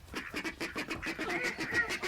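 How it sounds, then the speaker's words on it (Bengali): A domestic duck quacks in a rapid, steady run of nasal calls, close and fairly loud, with no voices over it. "এটি ডাক, বাংলায় বলে হাঁস।"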